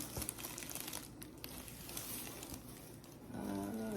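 Crinkly rustling of a plastic bag wrapping a YSL dust bag, handled nearby in irregular bursts for a few seconds, no talking.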